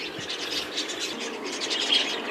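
A racing pigeon kept in a breeding loft, with soft chirping and bird calls filling the space continuously at a moderate, steady level, no speech.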